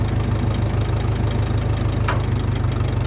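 A John Deere 3010 tractor idling with the clutch in and first gear selected, its engine a loud, steady low chugging pulse close by, with one brief sharp click partway through and no speech.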